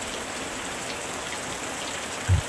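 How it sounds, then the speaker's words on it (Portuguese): Steady rain falls at night in a constant, even hiss of drops on surfaces, with a soft low thump near the end. "essa noite de chuva é um convite para uma noite de sono reparador"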